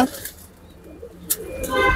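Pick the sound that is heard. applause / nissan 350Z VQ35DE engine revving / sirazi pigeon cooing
sirazi pigeon cooing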